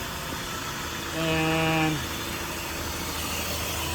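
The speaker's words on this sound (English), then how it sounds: "right now it's not calling for the high speed, but you can hear the engine changes" A 2001 PT Cruiser engine idles steadily with the air conditioner running, its hum briefly rising in pitch and loudness for under a second before settling back, with a man's short word over it.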